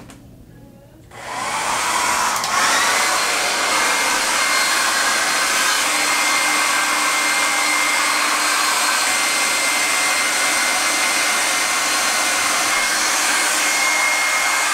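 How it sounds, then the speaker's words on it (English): A hair dryer switches on and blows dreadlocks dry, a loud steady whooshing roar that runs unbroken after a short quiet start. "So I'm gonna use a hair dryer and then just like blow dry how you're supposed to dry headlocks"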